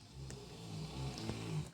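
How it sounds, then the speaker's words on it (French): Loud, low snoring with a rumbling, throaty drone that swells and eases over a breath or two, close by and alone. "c'est ronfle fort ça"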